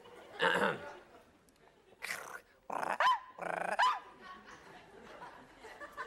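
A man imitates a dog with his voice, giving several short gruff barks and growls in separate bursts, loud and close, with quiet gaps between them.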